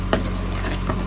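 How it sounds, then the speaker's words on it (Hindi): Pork curry frying in a pan, a steady continuous sizzle with a couple of brief stirring scrapes, close and moderately loud with no talking. "देखिए अच्छी तरह से फ्राई भी हो गई है, अब थोड़ा सा क्रिस्पी बना लिया है मैंने साइड साइड में"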